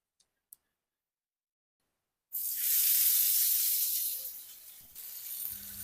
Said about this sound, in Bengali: পেজুর মতো শেপ করে একটা একটা করে দিয়ে বাজিয়ে লাইবেন সুন্দর করে